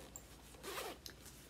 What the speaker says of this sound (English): And it's got this big zipper.